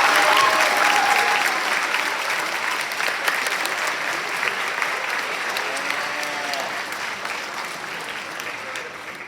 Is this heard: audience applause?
yes